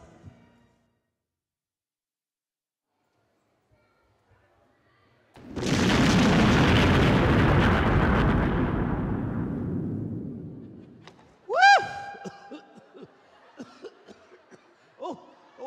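A bomb explosion effect at a pirate dinner show bursts after near silence, a loud booming blast that decays over several seconds, followed by an audience laughing and chattering.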